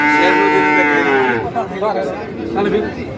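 Cattle at a village livestock market moo loudly and close by, one long drawn-out low followed by shorter calls, with faint crowd chatter in the background.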